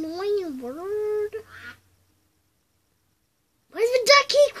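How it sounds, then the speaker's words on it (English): A toy duck gives two bursts of loud, nasal quacks, each a quick series of honking calls. A short silence separates them, and a voice is heard nearby. "Why's the duck keep quacking?"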